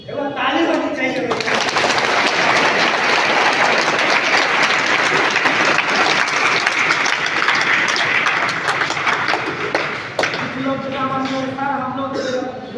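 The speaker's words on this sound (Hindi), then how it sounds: "एक बार ताली होनी चाहिए।" Audience in a classroom-style lecture bursts into loud, sustained applause lasting about ten seconds, with a voice speaking briefly before and after the clapping.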